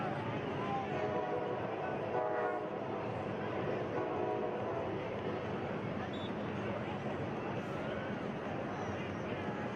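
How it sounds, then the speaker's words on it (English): A train rolls by in the distance during a soccer match at a stadium, a low steady rumble with a faint horn under constant crowd noise and commentary voices for about ten seconds. "Train rolling by in the distance"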